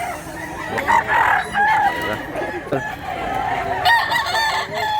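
An old, year-old rooster offered for sale crows repeatedly up close, its calls mixed with clucking from fowl nearby in a lively, uneven sequence.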